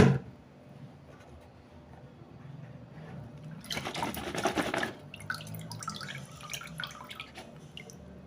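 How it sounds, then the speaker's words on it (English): Salted soaking water is sieved off raw sweet potato pieces in a home kitchen, a brief rush of pouring and splashing liquid after a quiet start, then scattered drips and small wet clatters. "I'll then sieve out the water."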